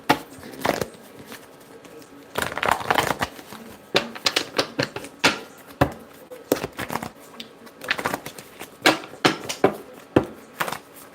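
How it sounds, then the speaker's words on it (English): A deck of tarot reading cards is shuffled by hand in bursts of crisp, close riffling and snapping card noise. The bursts break up into irregular clusters with short pauses between them, and no voices are heard. "y'all know how I like to shuffle this deck"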